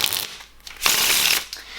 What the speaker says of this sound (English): Even doing a riffle shuffle as well, it does do a really nice riffle shuffle